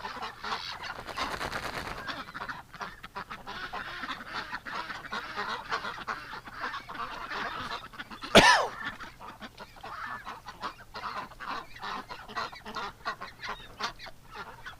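Ducks outside a farm barn in winter honk and call repeatedly, a steady chorus of overlapping quacks at moderate distance. One sharp louder noise cuts through midway.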